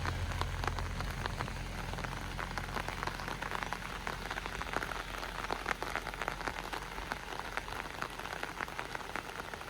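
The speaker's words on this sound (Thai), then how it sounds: "พาชมบรรยากาศฝนตกรินสดชื่นยามเช้าเด้อ" Morning rain falls steadily, a dense, even patter of drops hitting surfaces nearby, continuous throughout with no voices.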